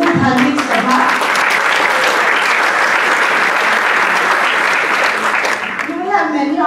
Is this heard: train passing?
no